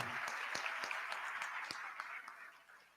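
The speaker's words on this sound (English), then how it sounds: "Oh, the applause is too feeble." Thin, scattered applause at an induction ceremony for newly qualified medical and dental practitioners, faint and distant, with a few distinct claps standing out before it fades away.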